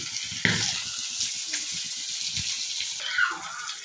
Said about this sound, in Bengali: পেঁয়াজ লঙ্কা রসুন এবার ভাজছি